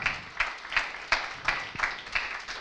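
An audience at a marketing and sales conference keynote applauds the steering committee, a steady run of distinct, fairly close claps in an even rhythm, with no talk over it.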